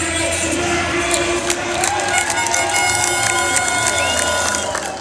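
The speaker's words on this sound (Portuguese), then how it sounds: "Muitos aplausos pro Flávio Bolsonaro" Large outdoor crowd at a Bolsonaro political protest applauding and cheering Flávio Bolsonaro, a loud dense roar of clapping, shouts and whoops with a whistle-like tone sweeping through.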